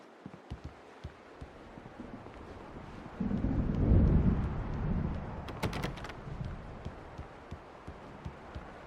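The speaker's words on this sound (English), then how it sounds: "The storm is almost here." Thunder from an approaching storm in the video game Alan Wake, a deep low rumble swelling in the middle and slowly fading, with scattered small clicks and taps around it and no voices.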